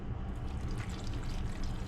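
Water steadily pouring into a crock pot for tomato soup, a continuous soft splashing stream with no talk over it.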